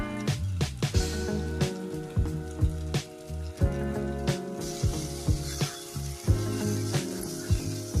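Ivy gourd (dondakaya) fries in oil in a pan with a steady close sizzle, punctuated by repeated sharp knocks and scrapes as peanut powder goes in and is stirred.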